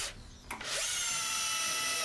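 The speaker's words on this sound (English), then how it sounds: "Now let's see how it does with some 3-inch coarse thread drywall screws." A drill on speed setting 2 drives a 3-inch coarse thread drywall screw, a brief bump then a rising, steady high whine held close and loud.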